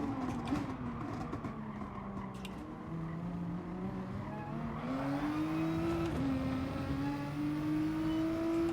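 Race cars in Gran Turismo Sport, including a GT-R, roar around a track with a rising, shifting engine tone as the car accelerates, steady and loud throughout with pitch climbing through gear changes.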